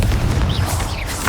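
A Confringo fire spell explodes in the Hogwarts Legacy video game: a short, dense boom with a rumbling low burst that stays loud for over a second, with no talk.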